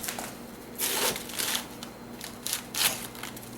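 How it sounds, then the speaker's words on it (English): A knife cuts down the middle of a head of romaine lettuce, giving several crisp, crunchy bursts of crackling leaves, close and clear with no talking. "Let's do a perfect cut right down the middle here."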